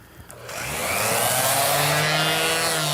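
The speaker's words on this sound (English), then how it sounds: "And you could just take your random orbital sander" A random orbital sander spins up and runs on small wood pieces, a loud, close, steady whir and buzzing hum that rises quickly after a few faint clicks and holds for the rest of the clip.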